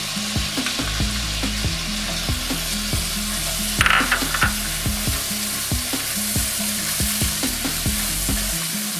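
Soy, fish and oyster sauces sizzle steadily in a hot pan for garlic noodles, with repeated stirring scrapes in an even rhythm and a brief sharper burst partway through, close and loud with no voices.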